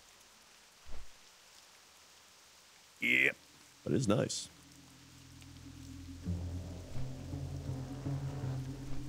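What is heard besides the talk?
rain in a video game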